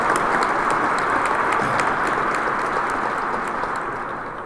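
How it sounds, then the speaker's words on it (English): Sustained, dense applause from an audience at a Black History Month kick-off event, loud and steady throughout before tapering slightly at the end. "Give them a round of applause."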